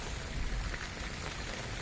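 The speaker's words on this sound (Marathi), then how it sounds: "भरपूर पाऊस आता पडायला लागलेला आहे." Heavy rain falls steadily on a village, a dense, even hiss and patter that stays constant and fairly quiet throughout, with no voices.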